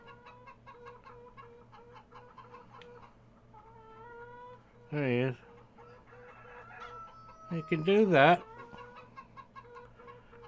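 Chickens in the Farming Simulator 17 video game cluck in short, repeated bursts, with a louder squawking call midway and another burst near the end, while someone speaks briefly over them.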